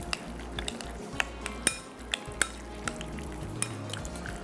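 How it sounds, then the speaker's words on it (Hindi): Chicken marinade with mayonnaise mixed in a bowl, a steady wet stirring with regular sharp clicks of a utensil against the dish, close and fairly quiet with no talking. "इसको कर देंगे मिक्स अच्छे से"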